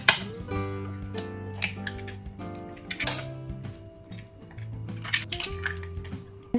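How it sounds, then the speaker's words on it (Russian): Three eggs cracked one after another into a bowl for a tomato omelette: a series of sharp taps and small wet drops, close and fairly soft, over steady background music. "Выбиваем в миску 3 яйца."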